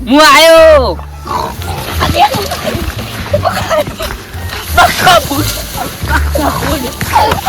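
Pig grunts and squeals mixed with splashing water in a farm field, loud and close, while people talk and shout throughout.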